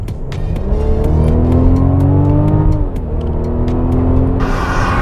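A 2020 Mercedes-Benz GLC 300 Coupé accelerates hard in Sport Plus mode, its engine note close and loud, rising in pitch, dipping briefly at a gear change, then climbing again.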